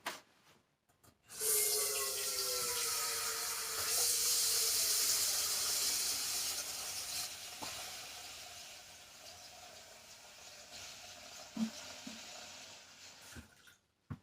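Two cups of water and the contents of a package pour into a pot, a loud steady rush that runs for several seconds before thinning out, followed by a few quiet knocks and clinks.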